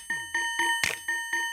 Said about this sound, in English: it's giving it that kind of go-go bell or cowbell type of effect where some notes are muted